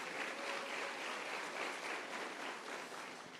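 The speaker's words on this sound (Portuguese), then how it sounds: "Glorifique com seu aplauso." Congregation applauding during a church service, a steady wash of many hands clapping at a moderate, somewhat distant level with no voices over it.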